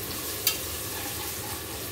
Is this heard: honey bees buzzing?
no